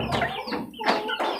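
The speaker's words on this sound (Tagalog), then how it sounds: "ilalagay ko muna dito sa kulungan itong mga sisiw" Chicks and hens cluck and peep in a cage on a sunny Filipino farm, a quick series of close, soft clucks with no talking.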